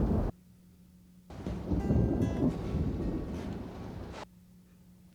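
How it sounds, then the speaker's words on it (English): Stormy ambience from The Last of Us TV series: a low rumbling swell of thunder and wind rises abruptly, rolls loudly for about three seconds, then cuts back to a quiet hum with no talk. "Yeah, that storm is crazy."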